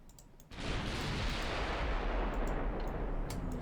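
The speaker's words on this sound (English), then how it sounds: "here comes the enemy fire" Naval artillery from warships in the Ultimate Admiral Dreadnoughts game: after a brief quiet start, a sudden loud boom opens into a sustained, heavy roar of gunfire that fills the rest of the clip, with no voices.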